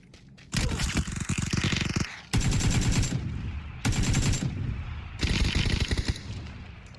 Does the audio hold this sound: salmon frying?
no